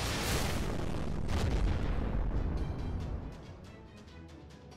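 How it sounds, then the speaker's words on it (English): A cannon blast from the video game Fate/Grand Order booms loud and close, and its rumbling roar slowly fades into a dull tail. "I think that calls for another cannon blast."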